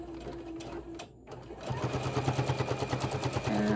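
Sewing machine stitching a zipper pouch, heard in short bursts at first, then a brief pause before a fast, steady rhythmic whir that runs to the end.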